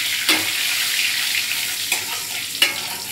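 Bay leaves and whole garam masala spices sizzle in hot oil, a steady bright crackle with a few sharp spits, close and loud with no voices.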